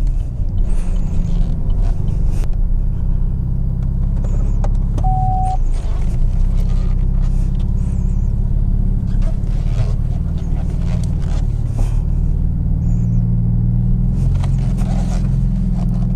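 A Chevrolet Camaro being driven, a loud steady low engine rumble heard from inside the car for the whole stretch, with faint clicks and scrapes and brief voices at times.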